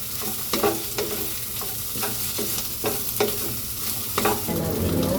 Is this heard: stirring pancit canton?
yes